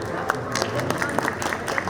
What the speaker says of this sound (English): A big round of applause for him, please.